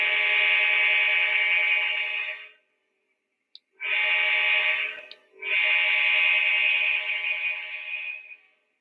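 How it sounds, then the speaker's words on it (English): A loud, steady horn blows in three long blasts separated by brief silences, bright and buzzy in tone. "Let's hear the horn. Let's hear that beautiful horn."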